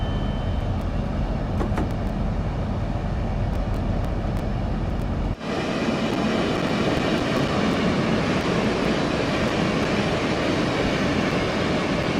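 Train engine in the video game Train Sim World 2, a steady loud mechanical rumble and drone that shifts abruptly partway through to a brighter, denser running noise, with no talk.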